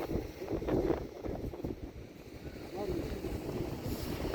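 Strong wind gusts through a nighttime snowstorm on a street, roaring and buffeting close to the microphone while a voice talks intermittently over it.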